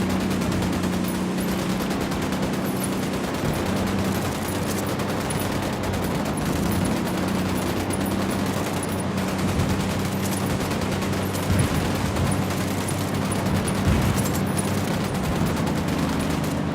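Sustained automatic gunfire and overlapping bursts from a firefight in the Ghost Recon Wildlands video game, loud and continuous over a low rumbling backdrop, with no pauses.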